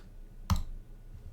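A single sharp computer mouse click sounds close and crisp, standing alone over faint background hiss.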